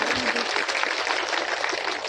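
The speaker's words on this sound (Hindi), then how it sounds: "जोरदार ताली बजा करके इनका स्वागत करिए।" A rally crowd applauds a district president at a political gathering in Bihar, a thick, continuous wash of clapping from many people that stays loud and even throughout.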